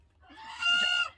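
Backyard hens in a cold Maine winter, eating scratch grains, give a single short clucking call that swells louder toward its end, close to the microphone with no voices.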